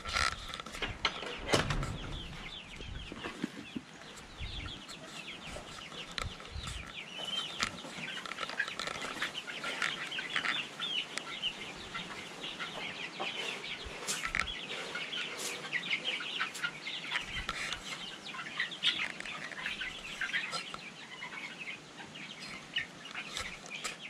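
Nearly feathered young chickens cluck and chirp near a hen house, with scattered soft calls and a few sharper clucks, fairly quiet over a faint outdoor background.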